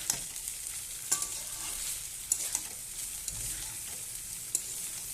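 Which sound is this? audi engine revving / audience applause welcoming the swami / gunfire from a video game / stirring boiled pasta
stirring boiled pasta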